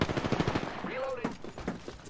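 Automatic gunfire in Apex Legends rattles in quick bursts, with a short whooshing sweep in the middle and more shots trailing off at the end.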